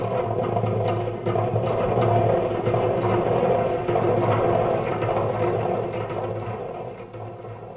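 A honey extractor's mechanism turning, a continuous loud mechanical whirr with a fast ratcheting, gear-like clatter and a steady low hum, close and without speech.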